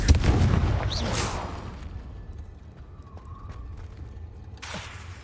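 Confringo blasting spells erupting inside a cave in the video game Hogwarts Legacy: a loud, booming explosion with a crackling burst, then a lingering rumble, another faint blast near the end.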